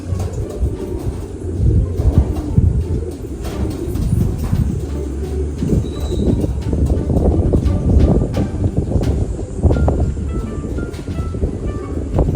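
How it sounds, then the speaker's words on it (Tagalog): Racing pigeons coo at a family loft after a 10 km self toss, soft throaty calls repeating over a steady low rumble, with birds fluttering and shuffling nearby. "Ito sila mga kalapatids, di pa pumapasok."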